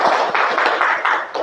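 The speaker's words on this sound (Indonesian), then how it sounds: "Beri tepuk tangan untuk Devi." Classroom of students giving a brief round of applause for a classmate, a short burst of rhythmic clapping heard up close, with no talking over it.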